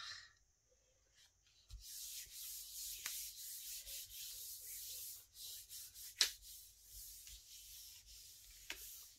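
Gel medium and acrylic paint being scraped off a gel press plate, a faint dry rasping rub in uneven strokes after a quiet start, with a few sharper scratches, close and with no talking.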